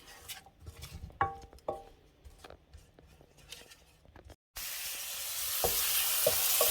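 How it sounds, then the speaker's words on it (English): Noodles frying in a pan and stirred with a wooden spatula: scattered knocks and scrapes at first, then a sudden cut to a loud, steady sizzle with occasional taps. "Get a spatula, a wooden one. Okay, and just stir it around."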